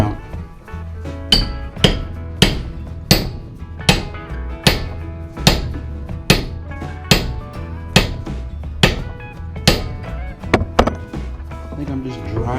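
Hammer blows ring out at a steady, regular rhythm, around eighteen sharp metallic strikes close by, as a vacuum brake piston is driven out of a narrow gauge railway brake cylinder.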